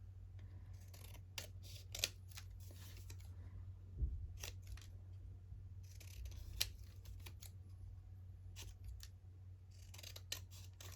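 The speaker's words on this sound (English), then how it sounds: "I like to trim around the shape." Scissors snip around a cutout shape in paper for a botanical junk journal page, giving a series of crisp, close, dry cuts in short irregular bursts over a quiet background hum.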